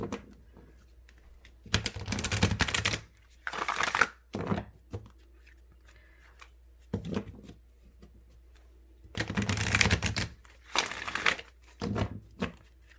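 Oracle cards being riffle shuffled, several bursts of crisp riffling and crinkling paper snaps in separate bouts, close and fairly loud with quiet gaps between, no talking.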